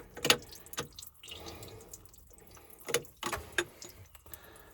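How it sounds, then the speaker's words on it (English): Water seeping and trickling from a boat engine as a bolt is loosened during impeller work, soft close drips and splashes broken by a few sharper metallic knocks. "A little bit of water starting to seep out."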